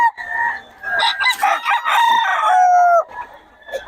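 A Sweater gamefowl rooster crows loudly and close by, giving one long drawn-out cock-a-doodle-doo with a few clucks around it and no talk.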